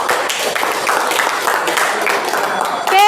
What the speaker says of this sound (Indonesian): Oke, tepuk tangan dulu buat kita semua.